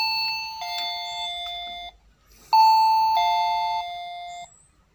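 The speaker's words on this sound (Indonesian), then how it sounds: "alarm bel pintu ya, yang menggunakan kabel, bukan yang menggunakan wireless" A wired doorbell alarm chime rings out a clear two-tone ding-dong, then after a short pause plays the ding-dong again, loud and close with bright ringing overtones and nothing else heard.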